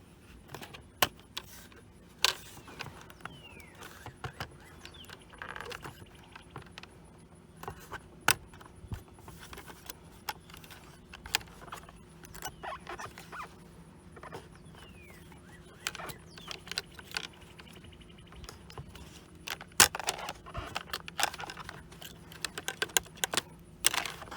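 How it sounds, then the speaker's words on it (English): Plastic dash trim pieces around the gauge cluster of a 2014-2016 Toyota Corolla LE being pried loose, with scattered close clicks, snaps and tapping as clips release, over a faint steady background hum. "That's how you take the dash trim pieces apart for the gauge cluster"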